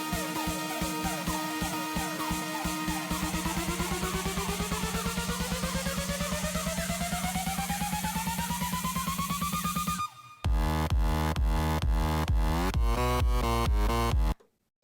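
An electro house track playing loud: a busy arpeggiated build with a long rising synth sweep, a short silent break, then the drop with hard pulsing chords over a thumping beat, no voices.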